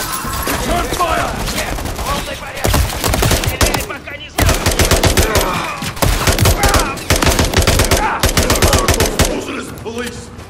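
Dense bursts of automatic gunfire and rapid shots from the Call of Duty: Modern Warfare 3 campaign, loud and nearly continuous with brief gaps, mixed with game effects.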